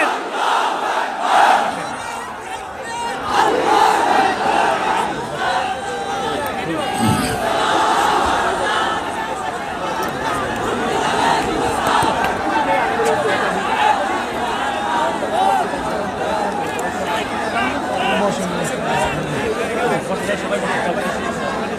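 A large crowd at a religious gathering shouting back in response to a takbir call, a loud roaring chant of many voices that swells and sustains continuously, with a mass of chatter and cries beneath it.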